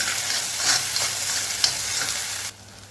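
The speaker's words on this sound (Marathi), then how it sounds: "मीडियम गॅसवर तेल सुटेपर्यंत हा मसाला मस्त फ्राय करून घ्यायचा" Khandeshi masala frying in oil for mutton-style mushrooms, a bright sizzle broken by quick spatula scrapes and stirs, close and busy, cutting off abruptly near the end with no voices.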